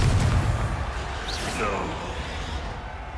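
A Confringo blasting curse in the Hogwarts Legacy video game, a heavy booming explosion with a whooshing burst and crackling debris under combat noise, followed by a rumbling tail.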